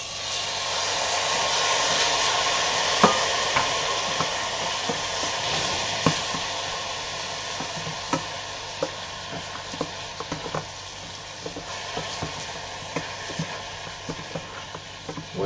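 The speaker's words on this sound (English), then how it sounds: "the spices that keep going pop all over the place" Spices and tomatoes sizzle steadily in a frying pan for an Egyptian vegetarian dish, with a constant close hiss broken by sharp, scattered pops that grow more frequent toward the end; no one speaks.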